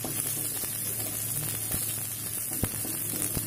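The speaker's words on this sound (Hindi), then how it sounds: "ये सब हाई फ्लेम पे ही मैं इन्हें भून रही हूँ" Small onions frying in a pan over a high flame, a steady close sizzle and crackle with a low hum beneath and a couple of sharp pops.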